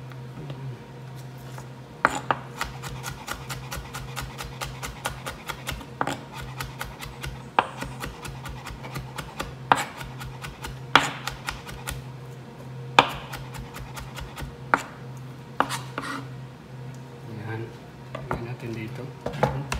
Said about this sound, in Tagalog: Chop-chopin natin yung bawang para mas malasa.